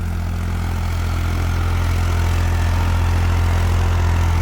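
A New Holland tractor engine runs steadily on wet ground, a loud, continuous low rumble that holds at a constant idle-like pitch throughout, with no talk over it.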